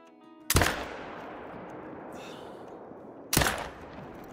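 Two loud rifle shots from a deer hunt in the game Call of the Wild, targeting Rusa deer around 200 yards, spaced about three seconds apart, each with a sharp crack and lingering echo.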